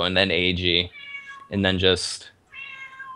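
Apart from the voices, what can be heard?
pet cat meowing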